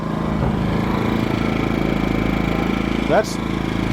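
An Atima inverter generator runs at a steady, low, even drone with its muffler pointed straight at the microphone, close and constant, with a brief higher squeak near the end.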